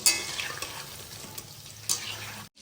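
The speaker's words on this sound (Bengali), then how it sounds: "তাহলে চলুন আমি ভাজছি দেখাই এই ভাজা বসিয়ে দিয়েছি" Pakoras frying in oil in a pan at home, a continuous close sizzling hiss with a few sharper crackles, cutting off briefly near the end.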